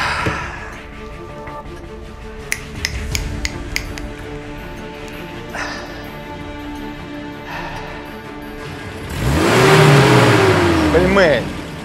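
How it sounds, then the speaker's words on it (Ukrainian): A car engine revs up loudly near the end, rising in pitch, after quieter clicks and murmuring voices. "не газуйте так"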